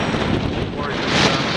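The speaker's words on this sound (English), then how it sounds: "so a good strong gust happening there" Strong wind gusts buffet an outdoor microphone while a quadcopter drone flies in high winds, a continuous loud broadband roar that swells slightly toward the end, with no speech over it.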